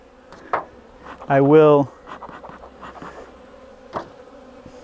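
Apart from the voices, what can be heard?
honey bees buzzing at the hive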